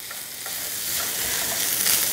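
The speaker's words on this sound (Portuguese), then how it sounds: "Vamos colocar nossos 250 gramas de linguiça calabresa para dar uma refogada aqui." Calabresa sausage sizzles as it is sautéed in a pan, a steady close hiss of frying with faint stirring scrapes, no one speaking.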